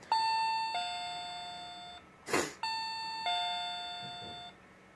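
A two-tone ding-dong doorbell chimes twice, clear and close, with a short burst of noise between the rings in an otherwise quiet room.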